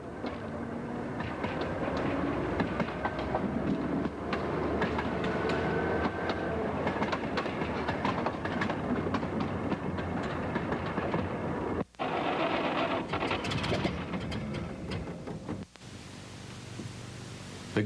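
A Galloping Goose railcar runs along the Rio Grande Southern railroad, with a steady loud rumble and rhythmic clatter of wheels on track that goes on throughout, briefly cut off twice near the end.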